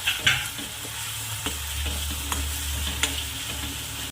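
Cumin and spinach frying in oil for a palak dish, a steady sizzle with a low hum beneath and a few sharp stirring clicks and scrapes spread through, close and without talk.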